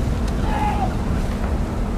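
A strong headwind rushes and buffets across an open-water junior rowing race course, a steady, loud roar with a faint voice drifting underneath.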